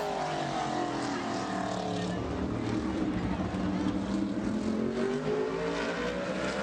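A modified race car roars steadily around Bowman Gray Stadium during qualifying, its engine loud and continuous with a pitch that rises and falls through the lap, while an announcer talks over it.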